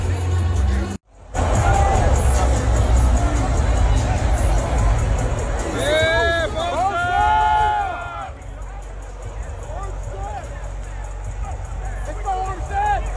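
Football crowd at SoFi Stadium during a 49ers versus Rams NFL game roars and murmurs steadily, with nearby voices talking and a sharp bang near the start.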